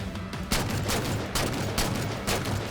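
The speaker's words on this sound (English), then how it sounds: "It seems like you're in a heavy gunfire" Heavy gunfire in a battle, dense bursts of loud rapid shots and blasts one after another, close and harsh over a constant roar of noise.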